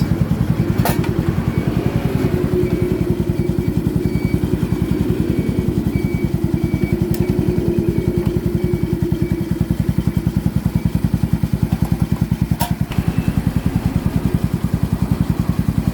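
A Yamaha Mio scooter engine idles noisily and close up, with noise coming from its side, a steady rattling putter throughout and a few sharp clicks, no talk.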